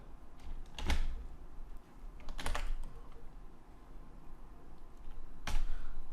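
Typing on a computer keyboard while writing a PHP script, with a few loud, sharp bursts of key clacks separated by quieter stretches of faint tapping, close by, with no one talking.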